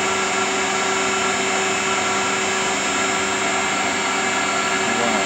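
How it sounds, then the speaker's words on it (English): A Multicam CNC router spindle runs through its warm-up, giving a loud, steady, continuous machine whine with sharp tonal lines that holds unchanged with no talking. "Beginning the spindle warm up."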